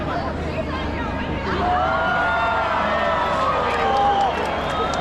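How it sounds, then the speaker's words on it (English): A large outdoor crowd in Sol, Madrid roars and whoops as the Christmas tree lights up, a dense swell of cheering and babble that builds and holds, with a voice talking over it. "And there the crowd roars."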